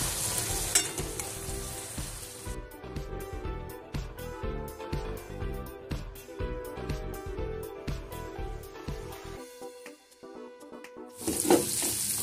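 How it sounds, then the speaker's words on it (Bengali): Chicken meat frying in a pan, giving a continuous close sizzle broken by repeated stirring scrapes, a brief quieter stretch near the end, then loud sizzling again. "মাংস ভাজাটা আমার হয়ে গেছে"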